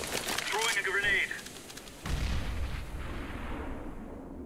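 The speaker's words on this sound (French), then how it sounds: "I'm throwing a grenade." A grenade is thrown and bursts in Counter-Strike: Global Offensive, a sharp mid-distance explosion with a rumbling tail that fades into the background, preceded by a voice talking.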